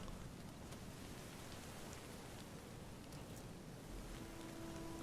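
Rain falls during a Total War: Rome 2 battle, a faint, steady hiss of dense patter that continues evenly throughout with no voices.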